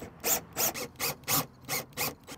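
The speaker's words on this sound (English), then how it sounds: "let's get that screwed in." A screwdriver drives screws to fix a fan in place, making a close, quiet series of about seven evenly spaced rasping turns.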